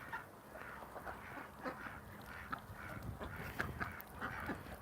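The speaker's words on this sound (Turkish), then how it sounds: "Ördekler bir karnı aç olunca bağırır bir de susuz olduğu zaman bağırır arkadaşlar" A flock of farmed ducks, calling when hungry or thirsty in cold weather, keeps up a faint, distant run of repeated quacks and honks over steady background noise.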